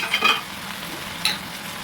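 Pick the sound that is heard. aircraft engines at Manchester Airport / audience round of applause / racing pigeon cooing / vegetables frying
vegetables frying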